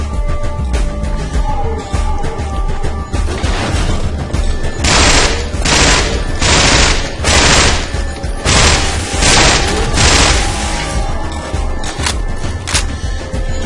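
Rapid bursts of SMG fire in Half-Life 2, several sharp volleys in quick succession over a busy, loud game mix, with a single crack near the end.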